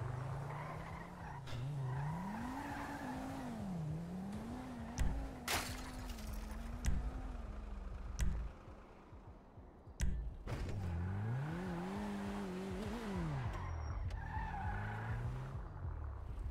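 A car in the video game GTA 5 brakes and skids, its tires squealing in long wavering screeches over the engine's steady drone. A brief dip and a few sharp knocks interrupt it partway.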